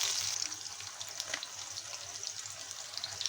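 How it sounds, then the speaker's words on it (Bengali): Onions, sliced into rings, frying lightly in oil for chicken biryani, giving a steady close hiss and crackle of sizzling throughout, with no voices. "পেঁয়াজগুলো আমি একদম লালচা করে ভাজবো না হালকা আর কি একটু ভেজে নিব"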